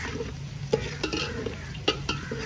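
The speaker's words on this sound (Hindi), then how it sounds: "प्याज भी अच्छे तरीके से भुन चुके हैं" Onions and chilies frying and being stirred in a pan over a wood fire outdoors, a steady sizzle broken by a few sharp scrapes and clinks of the spoon against the pan, close and loud with no talk.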